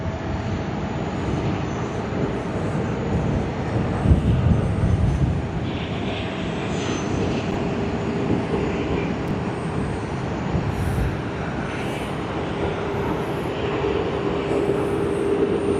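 An airliner landing at Sydney Airport on a sunny day, a low steady engine rumble and broad roar that hold through the whole stretch at moderate distance, with no talk.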